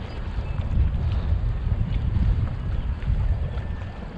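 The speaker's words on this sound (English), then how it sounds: "Now it's windy as shit this morning, and we got after it early." Strong morning wind of around 20 mph buffets the microphone beside a city pond, a continuous low rumbling roar with slight gusty swells and no voices.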